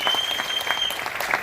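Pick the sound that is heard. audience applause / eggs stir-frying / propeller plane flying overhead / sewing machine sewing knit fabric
audience applause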